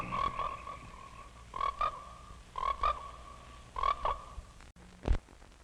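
Frogs croak in a horror film trailer, four loud, evenly spaced bursts of trilling croaks close up, followed by a sharp thud.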